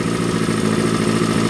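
A warmed-up Honda CB400Four with a straight-pipe exhaust runs steadily nearby, its engine giving a loud, even, throbbing idle pulse throughout the short stretch.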